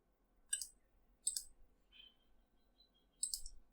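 A computer mouse clicks crisply at close range in a quiet room, with three distinct sharp clicks spaced irregularly and a softer small tap between them.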